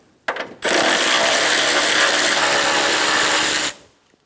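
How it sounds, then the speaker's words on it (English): A power ratchet spins out the 10mm condenser bolts on a 1988–1999 GMC K1500, giving a few short clicks and then one loud, steady whirring burst of about three seconds, close up and without talk. "Remove the 2 10mm bolts at the top of the condenser."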